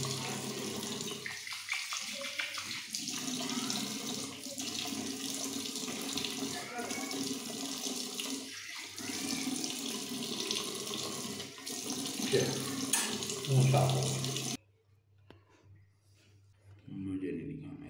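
Water runs steadily from a tap while a parrot is bathed, a constant rushing splash under intermittent talking, stopping abruptly near the end.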